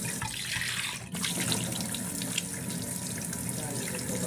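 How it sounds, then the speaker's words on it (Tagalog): A water tap runs steadily into a sink for face washing, a continuous close splashing rush with a short break near the start. "dito ay bubuksan ko ng aking tubig para maghilamos"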